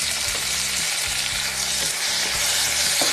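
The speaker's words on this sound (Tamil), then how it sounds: "கருவேப்பிலை, ஆனியன் போட்டு நல்லா வதக்குங்க" Onion, curry leaves and tomato sauté in a pan for sambar rice, a steady close broadband sizzle with repeated low scraping knocks of a spoon stirring through the mix, no voices.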